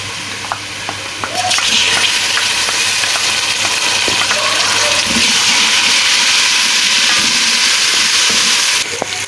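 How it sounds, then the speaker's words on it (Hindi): Garlic and ginger sizzle and fry with browned onions in a pan for a Kabuli chana pulao, a steady loud hiss running throughout with a few small pops and clinks. "एक से 2 मिनट लहसुन अदरक भून जाए"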